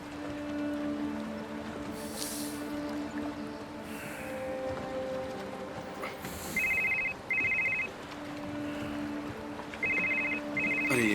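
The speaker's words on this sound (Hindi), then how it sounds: "ये फोन उठाना पड़ेगा।" An electronic telephone ring sounds in two short double bursts, moderately loud over a background of low hum and faint clatter.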